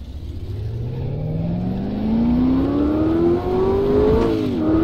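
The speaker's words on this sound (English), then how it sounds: "the engine is so loud," A race car engine in the rFactor driving game revs steadily upward in pitch through a gear, loud and continuous, then dips briefly at a shift.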